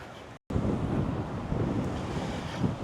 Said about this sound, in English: That wind just might mess with him.